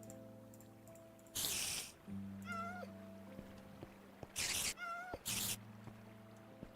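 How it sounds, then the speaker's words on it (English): Cat meows from a Minecraft game, several short synthetic meows in bursts over steady game background tones, fairly close and clear with no talking. "Although I guess putting a cat right in the center."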